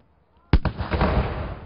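A single loud cannon boom from a ceremonial 21-gun salute at a Governor-General swearing-in, sharp attack after a silent lead-in, followed by a long rumbling echo and ambient crowd wash.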